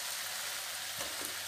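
Bottle gourd pakoras sizzle and crackle in hot oil in an iron kadhai, a steady close frying hiss with a small splash and burst of bubbling as more batter drops in.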